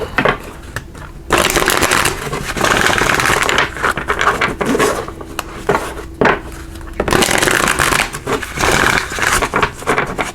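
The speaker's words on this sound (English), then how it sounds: "Let's give it a good shuffle." Tarot cards are shuffled by hand in loud, close bursts of riffling and rubbing card stock, separated by brief pauses, with no talk.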